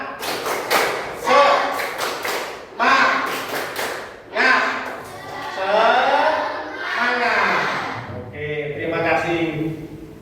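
A group performs an Indonesian 'tepuk semangat' spirit clap chant, bursts of sharp rhythmic claps alternating with loud voices calling out together, fairly close and energetic.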